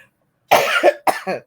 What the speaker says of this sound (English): For some reason, I have a coughing fit now.